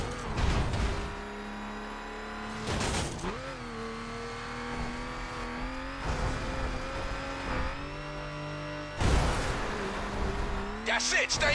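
In the racing video game The Crew, a car engine drones and revs steadily while the car crashes over bumps, with sharp thuds breaking through the engine tone at intervals.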